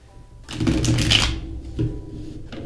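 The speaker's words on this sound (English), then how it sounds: "And one more shuffle." A deck of tarot cards is shuffled in a burst of papery riffling that swells then fades, with a shorter ruffle following, close and fairly quiet.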